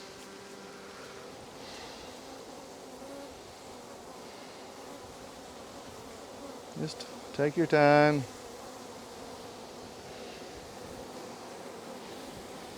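Honeybee swarm moving into a new hive box, a steady low insect buzz running throughout, with a brief louder burst near the middle where a person speaks quietly.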